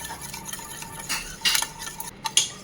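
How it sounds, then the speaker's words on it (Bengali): A spoon stirring ground coriander, cumin and Kashmiri chilli powder together in a pan or bowl, with soft scraping and a few light clinks, close and fairly quiet. "আর একটু কাশ্মীরি লঙ্কার গুঁড়ো দিয়ে এটাকে ভালো করে মিশিয়ে নিচ্ছি"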